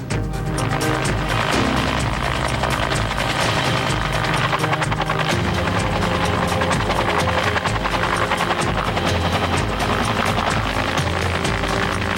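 Helicopter airlifting a sedated, blindfolded 13-year-old horse across a canyon, with loud, continuous rotor and engine noise filling the whole clip.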